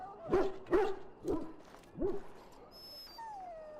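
Dog in the video game Dragon Age Origins giving a series of four whimpering yelps, close and clear, followed by a faint high tone.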